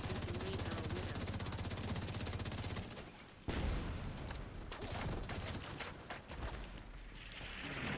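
Gunfire in the video game Paradise Lost comes as a dense, continuous rattle of rapid shots and booms that fills the whole stretch, steady and loud, with one sharp louder burst partway through.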